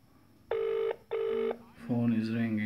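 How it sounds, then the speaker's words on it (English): A Samsung Galaxy Note 4 rings on an incoming call, two clean electronic ring tones in a row, then a voice starts talking over a continuing tone. "Phone is ringing, everything is working."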